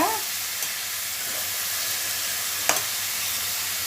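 Salted onion pieces cooking in a pan for a drumstick-tomato curry, a soft even sizzle with a few light stirring scrapes and one sharp clink, heard alone.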